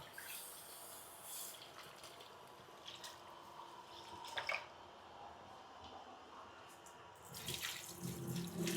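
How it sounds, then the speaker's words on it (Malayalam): Water steadily poured into a pot of simmering fish curry in a home kitchen, a continuous splashing rush with a slightly louder surge near the end and no talking. "മീൻ വേവാനായിട്ട് ആവശ്യമായിട്ടുള്ള വെള്ളം കൂടി ഒഴിച്ചു കൊടുക്കുക"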